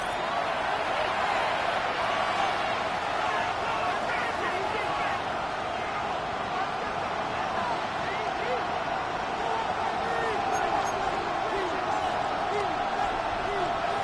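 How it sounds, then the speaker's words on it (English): Stadium crowd noise from a Madden football video game, with Seattle fans roaring before a third down. It is a steady, dense roar that holds the whole time and swells slightly, with a commentator's voice speaking over it. "What about this crowd getting even louder before 3rd and 10?"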